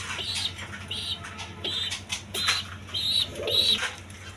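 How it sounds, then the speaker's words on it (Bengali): Coloured Raj Golla pigeons kept in pairs give soft, low cooing with a few light chirps and wing flutters, faint and close, with no one talking. "বন্ধুগণ এখানে আরেক পেয়ার কবুতর আছে"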